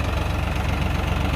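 A tractor engine pulls a 7-tine mini plough through dry ground, a steady low rumbling drone with rhythmic throbbing, loud and close, with no voices.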